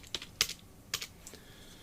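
Keys on a computer keyboard click in a short, uneven burst of a few taps while a folder name is typed, quiet and close with no voices.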